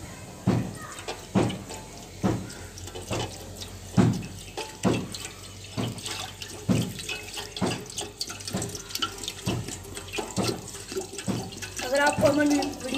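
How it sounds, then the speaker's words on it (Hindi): Water is poured into a cooking pot while preparing matanjan, a steady running splash broken by regular sharp clinks of metal, close and fairly loud. "पहले इसमें डालेंगे पानी"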